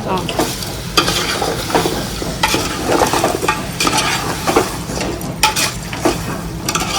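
Mutton head curry is stirred vigorously in a pan, producing loud continuous scraping and sizzling with frequent clanks of the spoon against metal, close and without talk.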